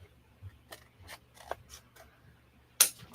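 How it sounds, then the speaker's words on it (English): Scissors snip through packaging with a series of short, crisp cuts at an uneven pace, close and alone in a quiet room, ending with one sharper, louder snip. "I'm going to get some scissors to cut into this, obviously."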